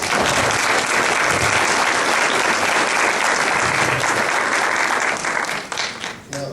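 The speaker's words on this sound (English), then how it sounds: "Let's give a round of applause to all the parents." An audience at a youth awards ceremony applauds the parents, with dense, steady clapping filling the room from the start and thinning slightly toward the end.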